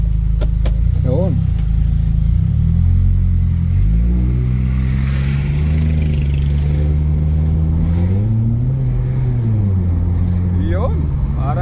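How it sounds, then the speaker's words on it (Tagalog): A car with a Toyota 2SZ-FE engine, which has overheating and transmission trouble, accelerates along a road, its engine note rising and falling steadily and loud throughout, with some talk over it. "parang yumabang yung makina"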